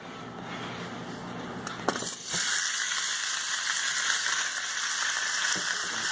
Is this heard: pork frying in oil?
yes